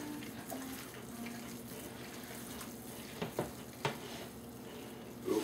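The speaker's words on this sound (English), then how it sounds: "I can start to hear a little sizzle over here. The meat candy's starting to cook." Strips of bacon coated in brown sugar sizzle steadily in a pan, a soft continuous crackle with a few sharper pops near the end, heard up close with no talking.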